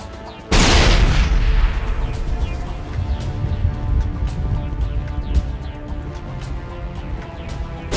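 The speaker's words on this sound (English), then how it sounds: "Those are grenades." A grenade explosion in the video game Mass Effect: a sudden loud blast followed by a long rumbling decay that lingers under faint scattered crackles.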